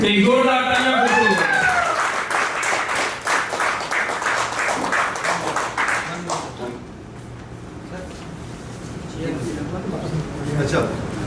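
Clapping from the audience at a company's fifth-anniversary celebration, rising under loud talking and cheering at first, then thinning out to scattered claps.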